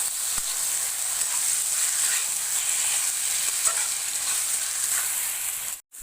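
Mutton pieces frying in a pan with a ginger-garlic masala, giving a steady close hiss of sizzling that holds evenly throughout and then cuts out briefly at the very end.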